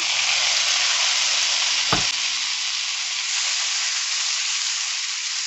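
Baby Bella mushrooms sauté with caramelized garlic and onion in a pan, a loud steady close hiss and sizzle with one brief stir or clatter, no voices.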